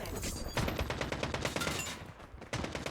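A Fennec submachine gun in a video game fires a rapid automatic burst of close, loud shots, stops briefly, then starts another burst.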